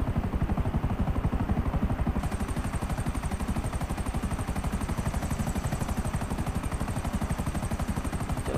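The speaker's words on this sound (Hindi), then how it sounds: "और हेलीकॉप्टर देख लो इनका" A helicopter in GTA V over Los Santos thumps with fast, steady rotor chop that stays loud and close for the whole stretch, with no talk.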